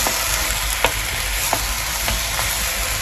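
Steady, dense sizzling of güveç stew ingredients frying in a pot on a village hearth, with a few brief clinks of a utensil stirring, close and continuous with no talking.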